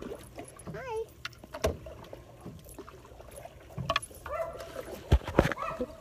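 A dog barks and yips near a mallard duck outdoors by water, with short scattered barks and a brief whine, moderately distant and fairly faint, amid light background noise.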